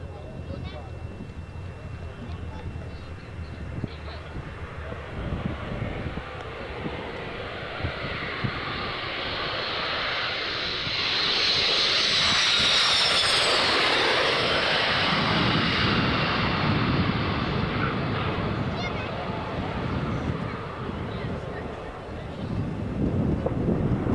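A light aircraft at about 2,000 feet passes overhead, a broad engine drone swelling gradually to a peak mid-clip and slowly fading, mixed with wind buffeting and voices talking over it.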